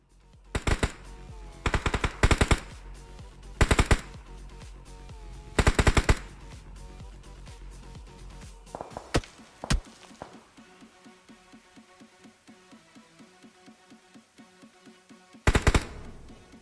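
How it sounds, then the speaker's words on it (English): Gunfire in the PUBG Mobile battle royale game cracks out in short automatic bursts, some loud and close, others fainter, scattered over a low ambient game background. "they're looking in, taking shots at Spirit right now."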